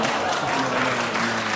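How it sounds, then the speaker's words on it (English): A studio audience on a panel game show claps and groans at once, a short dense wash of applause mixed with a low murmuring groan, fairly loud and close, with no speech over it. "That was a curious mixture of groaning and clapping."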